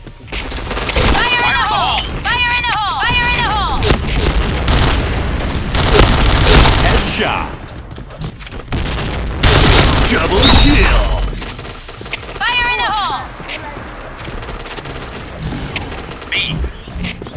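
Grenade blasts and bursts of rifle fire in a Point Blank online shooter match: heavy booms and rapid shot volleys come loud and close, with electronic game voice calls and player chatter heard between the explosions.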